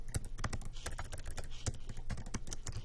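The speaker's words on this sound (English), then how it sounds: "maybe I want to actually type my answers right in here" Quick, uneven keystrokes on a computer keyboard clatter close by in a continuous run of light clicks, with no talking.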